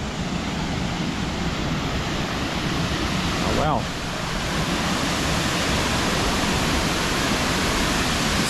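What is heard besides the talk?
waterfall crashing, river running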